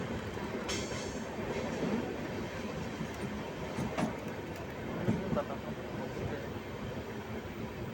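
Jan Shatabdi Express running between Dehradun and New Delhi, heard from inside a carriage as a loud, steady rumble of wheels on track with faint rhythmic clacks and a few brief squeaks throughout.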